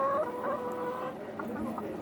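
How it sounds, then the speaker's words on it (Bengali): Layer hens clucking nearby, several overlapping soft clucks and drawn-out calls forming a steady poultry murmur, moderately loud with no talk. "এটা হচ্ছে লেয়ার মুরগি"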